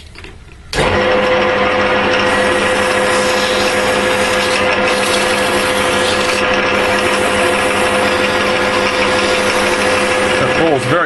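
A wooden ball spins on a lathe while 240 grit sandpaper is pressed against it, making a loud, continuous whirring hum and rasping friction that starts abruptly and holds steady throughout.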